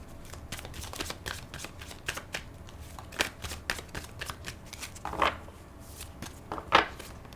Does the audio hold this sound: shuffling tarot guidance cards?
yes